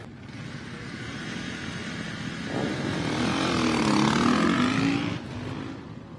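Orange KTM race motorcycle at the SCORE Baja 1000 moto start, a loud engine drone that rises in pitch and swells as it passes close, then fades, with steady rumbling noise underneath.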